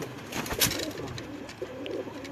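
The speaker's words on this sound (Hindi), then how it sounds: "देखने के काबिल कबूतर है जी।" A pigeon coos softly at close range in low, rounded calls, with faint rustling and a quiet rooftop background.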